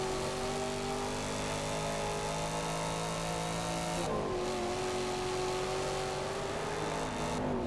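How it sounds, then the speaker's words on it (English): A Chevrolet Camaro's engine in Forza Horizon 2 rumbles and revs hard, a steady, violent drone that dips briefly midway before climbing again, loud and continuous with no talk. "This Camaro just sounds so violent"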